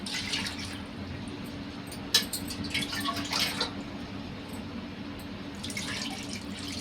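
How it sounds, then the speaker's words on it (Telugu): Water runs and splashes steadily into a cooking pot of goat tripe (boti) curry, with a few louder bursts of pouring; no voices. "ఉడకాలి కాబట్టి అందుకే వాటర్ వేస్తున్నానండి"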